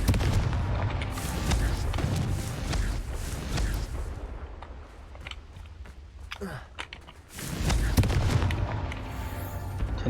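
Confringo explosive spell blasts in Hogwarts Legacy, a series of loud booming bursts amid dense battle noise, with a sharp renewed blast near the end after a brief lull.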